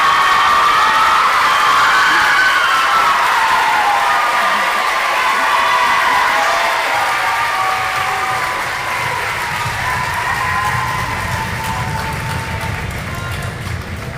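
Students at a school closing celebration for Years 7 to 11 erupt into loud, sustained cheering and applause with shouts and whoops from a large crowd, slowly easing but still going strong throughout.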